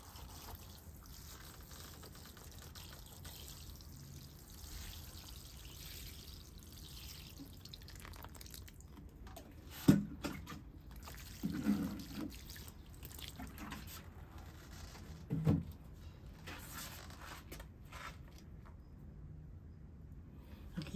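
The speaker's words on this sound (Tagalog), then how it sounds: "Diligan po uli natin." Water poured from a watering can onto dry, old compost soil in a small plant pot, a soft steady trickle with a few louder splashes and drips, close and quiet with no talking.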